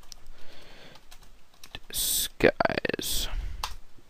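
Computer keyboard typing during a Minecraft plugin tutorial, a quick run of clicky keystrokes in bursts mixed with a man's speech and mouse clicks, close and moderately loud.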